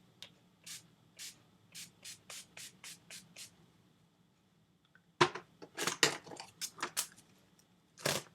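Short bursts of aerosol makeup setting spray, a string of about a dozen rhythmic hisses, a pause, then a flurry of longer, louder sprays close by.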